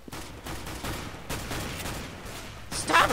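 Bursts of CS:GO gunfire come in several distinct volleys of sharp, rapid shots at fairly close range, growing louder toward the end, with a voice faintly audible under the last burst.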